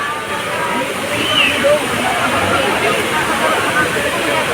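Taytay Falls in Majayjay, Laguna, pours in a constant loud rushing roar of cold water, with the murmur of a crowd of bathers blended underneath.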